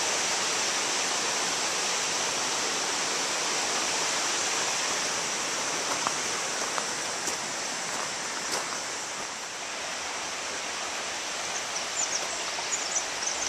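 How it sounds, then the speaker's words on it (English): At Munson Falls, a waterfall spills down over rocks in a steady, broad rush of water, moderately near and continuous, with no voices over it. "I see water cascading down the rocks."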